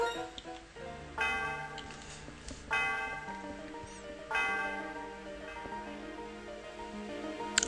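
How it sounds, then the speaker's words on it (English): Bell ringing in the Pokemon White video game, struck three times at roughly regular intervals, each ring bright and resonant with a long ringing decay over a quiet musical background. "The sound of the bell reverberates through the area."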